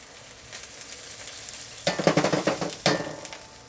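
Eggplant fries in oil in a wok on medium heat for Sichuan fish fragrant eggplant: a quiet start, then loud, close bursts of sizzling and stirring in the second half.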